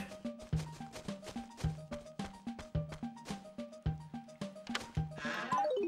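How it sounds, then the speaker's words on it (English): A sheep bleats over and over in quick succession in Animal Crossing on GameCube, clear and close, each call short and wavering, ending in a brief bright chime. "Another sheep."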